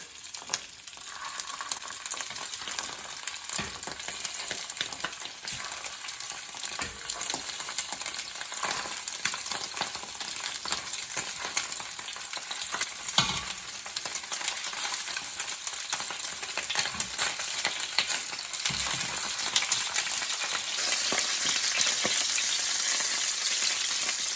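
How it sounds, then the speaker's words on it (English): Sausage fries in a pan for pasta arrabbiata, giving a dense, steady crackling sizzle that runs without pause, close and fairly loud, with occasional faint scrapes. "we're going to cook up our sausage here"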